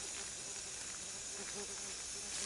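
Floured deer cube steaks fry in hot grease in a cast iron skillet, giving a steady close sizzling hiss with small scattered pops and no voices.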